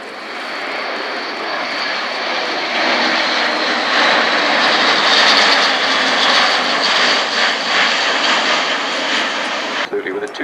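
An Airbus A400M military transport flies a tactical short-field demonstration at RIAT 2018, its turboprop engines producing a loud, sustained roar that swells and holds for about ten seconds before a brief dip at the end, with a commentator talking over it.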